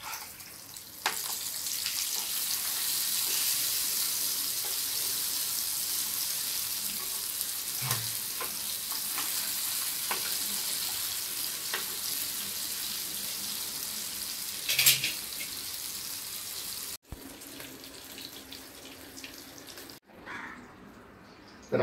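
Bombay duck fish frying in a pan, a steady loud sizzle lasting throughout with occasional soft clinks as pieces are turned, the hiss briefly shifting near the end.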